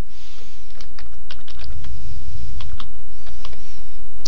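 Someone typing a title on a computer keyboard, a close, steady patter of key clicks over a continuous background hum, with no talking.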